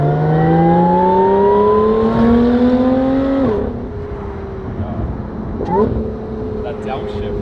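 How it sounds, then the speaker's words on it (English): A supercharged 400-horsepower car engine revs hard with a loud, rising supercharger whine over it, then drops off sharply and settles to a quieter drone with a brief blip near the end. "It's the supercharger. The whine is insane,"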